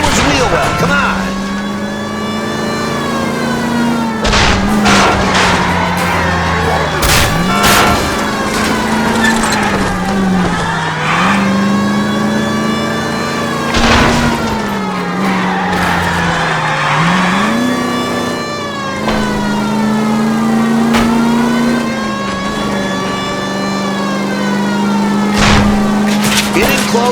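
In the video game L.A. Noire, cars roar and rev through a chase with repeated crunching impacts as one car rams another, while tires squeal and a voice talks over the continuous engine drone.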